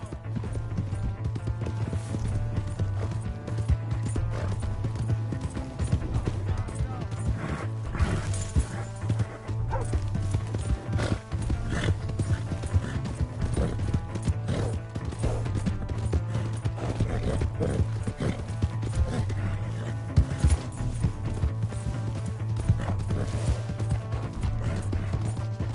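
Horse hooves clip-clop steadily through a video game scene, mixed with a dog's barking and a constant low background hum, loud and continuous throughout.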